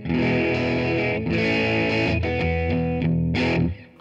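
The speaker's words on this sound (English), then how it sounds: "This is a 2204 mod, a classic British mid-gain amp tone type thing with an additional edge" Electric guitar played through a Line 6 Catalyst CX 100 on a 2204 mod amp voice, a classic British mid-gain tone with extra edge: loud distorted chords ring in several sustained phrases, then cut off sharply at the end.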